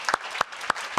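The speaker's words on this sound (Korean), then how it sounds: "우리 하나님께 감사의 박수 올려드리겠습니다" A church congregation's applause is heard as four distinct, evenly spaced claps, close and crisp, with no voices over them.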